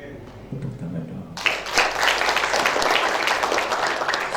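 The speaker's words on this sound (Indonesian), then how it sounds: "Tepuk tangan dong." A church congregation breaks into applause at an online worship service, starting abruptly after a moment of low murmur and holding as dense, steady clapping from many hands through to the end.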